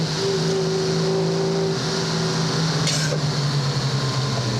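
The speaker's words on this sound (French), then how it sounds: "Ils ont des bagnoles, ils font du bruit," Classic rally cars at the Tour Auto 2009 with engines droning steadily, a sustained mechanical rumble mixed with wind and road noise, one tone shifting slightly midway as a car passes.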